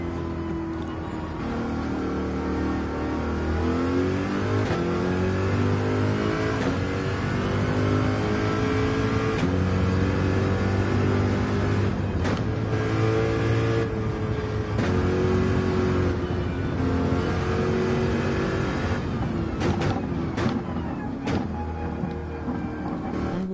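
A race car in Gran Turismo 7, on the Grand Valley track, revs and shifts continuously, its engine note climbing and dropping through the gears at steady close volume, with no talk over it.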